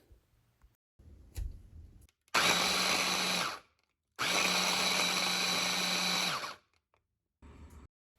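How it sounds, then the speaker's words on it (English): A food processor chops cauliflower into rice in two loud whirring bursts of about one and two seconds, with brief clunks of handling before and after. "place them in a food processor"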